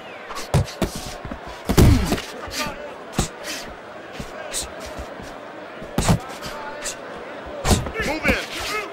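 Punches thud and slam in a Fight Night Champion online boxing bout, scattered sharp hits landing at irregular intervals over crowd ambience while a commentator talks throughout.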